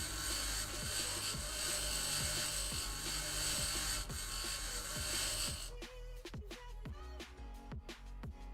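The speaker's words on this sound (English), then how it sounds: "Gotta grind them one at a time." Grinding tool cutting open storage containers in the Occupy Mars video game: a steady, loud mechanical whine with a rapid rattling texture that stops near the end, leaving scattered clicks and knocks.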